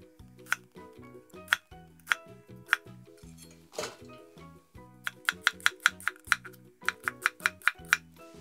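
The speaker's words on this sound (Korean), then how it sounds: "이 반은 채 썰 겁니다" A knife chops onion into strips on a cutting board, crisp taps at first spaced out, then quickening into a rapid steady rhythm, close up.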